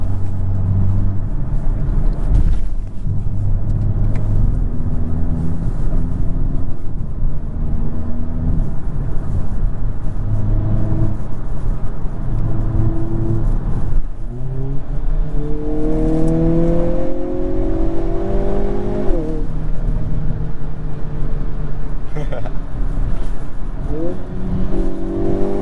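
A 2022 Hyundai Kona N engine revs steadily from inside the cabin, then blips sharply through rev-matched downshifts, rising and falling harmonics sweeping over a constant road drone with no talk.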